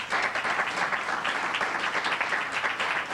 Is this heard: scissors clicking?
no